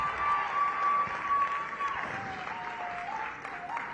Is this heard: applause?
yes